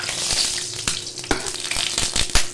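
Cumin, asafoetida, bay leaf, red chilli and garlic sizzle and crackle in hot mustard oil for a chana dal tadka. Close, continuous frying hiss with sharp pops and stirring clatter, and no talk.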